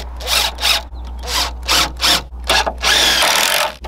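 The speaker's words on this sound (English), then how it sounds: "you put the screws in this side" Power drill driving screws into the wood framing of a floor system: close, loud repeated whirring bursts of the motor, each a fraction of a second long, over a constant low electrical hum.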